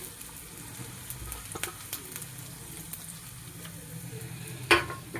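Garlic, curry leaves and green chillies frying in a pan with a steady, moderate sizzle, light stirring and a sharp clack near the end, no voices.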